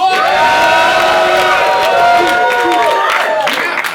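A large crowd at a rap battle in Vancouver cheers and shouts loudly, a sustained roar of voices with whoops that stays strong before easing slightly at the end.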